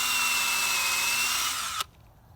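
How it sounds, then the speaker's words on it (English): A power drill whines steadily as it bores a tap hole into a maple tree, then abruptly stops, leaving near silence. "You gotta keep the drill straight. See how the drill's wobbling around?"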